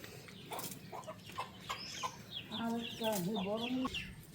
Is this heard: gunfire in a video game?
no